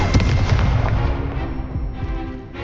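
A loud burst of Expelliarmus spell-casting from Hogwarts Legacy: booming, crackling impact blasts rolling together in a dense barrage with no talking.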